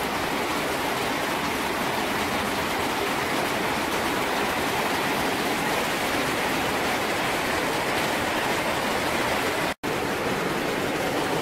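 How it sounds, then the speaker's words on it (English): Heavy rain pours down in Pattaya in a dense, steady hiss, unbroken except for a brief dropout near the end. "That rain's coming down pretty heavy now"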